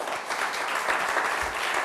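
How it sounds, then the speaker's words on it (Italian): An audience claps continuously, a dense patter of many hands at moderate distance, steady throughout. "e se volete facciamo anche un applauso"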